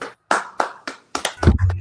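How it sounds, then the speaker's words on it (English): A group at an indoor brotherhood class claps their hands: a few separate claps at first, then a denser, louder burst of clapping near the end. "All right, everybody clap it up."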